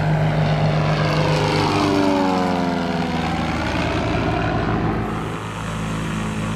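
A Cessna 172 fitted with an external exhaust, its propeller engine droning loud and close at a fly-in, the tone sweeping as the aircraft passes and then easing to a steadier, slightly quieter engine note.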